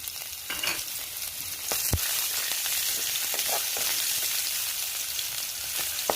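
Green chilies, curry leaves, ginger, garlic, cumin and mustard seeds fry in hot oil with a continuous close crackling sizzle and occasional sharp pops and stirring clicks, with no voices.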